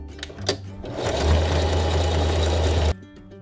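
A sewing machine runs steadily for about two seconds while stitching bikini fabric, a loud close motor whir that stops abruptly, preceded by a few handling clicks.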